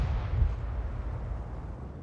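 A tank gun fires blind shots in a W-UNI stronghold skirmish video game. One deep, muffled boom starts at once and its low rumble fades away over two seconds.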